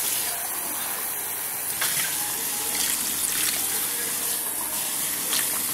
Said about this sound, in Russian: еще воды налили.